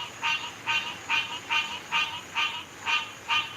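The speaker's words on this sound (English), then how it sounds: "them frogs is getting it on, dog. Y'all hear that shit?" Frogs croak outdoors at night in a regular rhythm, about eight evenly spaced rasping calls over a quiet background hum with no talking.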